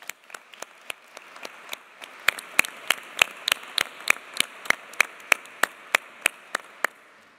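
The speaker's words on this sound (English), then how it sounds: "please give a warm welcome again. Applause for Sri Nihal Tamana" Audience applause at a children's peace prize ceremony in London's Banqueting House, heard as sparse, distinct single claps in a loose, fairly regular rhythm that get louder and sharper partway through.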